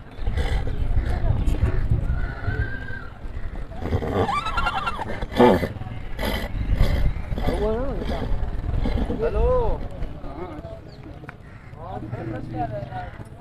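Horses at a horse market, with neighs and whinnies and some hoof clatter. Someone talks loudly through most of it.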